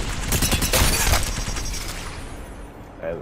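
An L-Star energy machine gun in Apex Legends fires a dense, loud burst of rapid shots during the first half, then tails off into fading echoes and quieter game noise.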